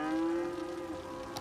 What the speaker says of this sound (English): Moo moo.